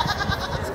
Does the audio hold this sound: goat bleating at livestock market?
yes